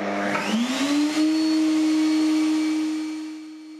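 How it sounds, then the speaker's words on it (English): A table saw motor spins up with a rising whine, then settles into a loud, steady hum for a few seconds before tapering slightly. It is set up to cut shallow grooves in a panel, but no clear cutting is heard. "I'm cutting two shallow grooves to take the flange of a sliding nut"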